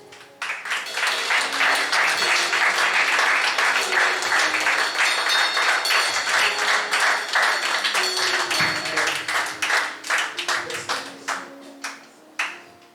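A church congregation claps and cheers in acclamation, a dense, loud burst of applause that holds steady and then thins into scattered individual claps toward the end.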